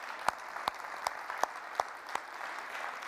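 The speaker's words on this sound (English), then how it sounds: "Let's give her a round of applause." An audience at the 2023 Orion Township State of the Township Address applauds presenter Jenny: soft, diffuse clapping with several sharp, louder claps standing out in a regular, almost rhythmic pattern, fading a little at the end.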